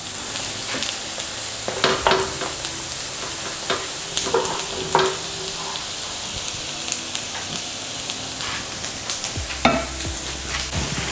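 Gnocchi browning in butter in a pan, with a steady bright sizzle and crackle of frying throughout, plus occasional louder pops and stirring clatter, close and without talk.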